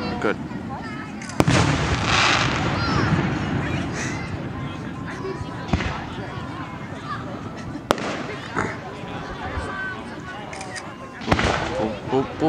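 Scattered fireworks bang and boom at intervals amid crowd chatter and nearby voices, a few sharp reports standing out.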